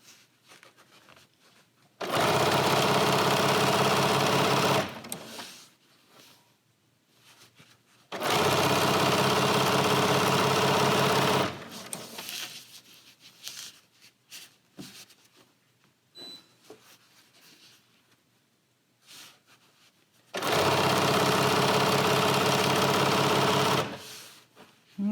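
A sewing machine runs in three separate bursts of several seconds each while a quilt is stitched, with quiet pauses and small handling noises between.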